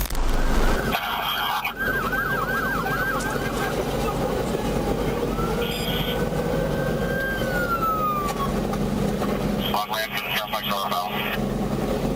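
An ambulance siren wails with rising and falling tones amid night traffic noise in Miami during a police pursuit, with bursts of radio chatter and talking.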